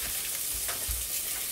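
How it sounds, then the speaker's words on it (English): Sausages sizzle in a pan on a wood stove inside a winter wall tent, a loud, steady hiss and crackle with a couple of soft scraping bumps. "I think I need to flip the sausages"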